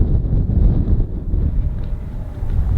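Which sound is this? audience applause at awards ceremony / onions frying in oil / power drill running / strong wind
strong wind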